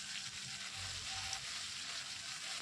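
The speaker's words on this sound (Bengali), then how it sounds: "এবার এটাকে একটু ভেজে নিয়ে এর মধ্যে দিয়ে দিচ্ছি কুচানো পেঁয়াজ" Chopped onions sizzle in hot oil in a pan, a quiet, steady hiss of frying with a soft stir or two, no voices over it.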